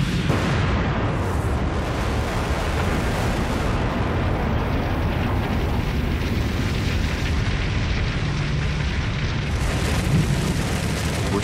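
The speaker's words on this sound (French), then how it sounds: "L'impact se produit quelques secondes plus tard." Massive asteroid impact explosion, a sustained deep roaring rumble that fills the whole span at steady loudness, broad and dense like a continuous blast wave.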